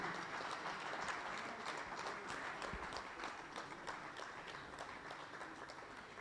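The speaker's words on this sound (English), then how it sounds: "A round of applause to Major Retired John Sei." Applause from an audience at the launch of the IGAD Council of Eminent Persons, a faint, even wash of clapping heard from a distance that continues steadily throughout.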